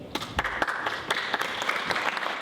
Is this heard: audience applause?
yes